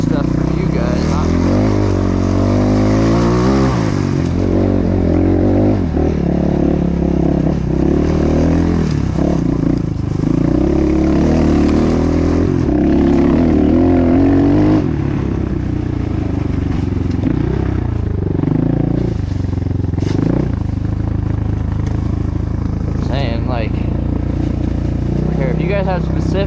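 A Kayo K4 250 dirt bike ridden on trails, its engine loud and close with a steady droning roar and rising and falling revs. Wind and clatter run under it, with a voice over the top at times.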